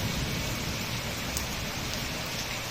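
Steady heavy rain after gusts of wind, a dense even hiss close by and alone, with no pauses.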